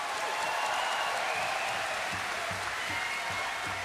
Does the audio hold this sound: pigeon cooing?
no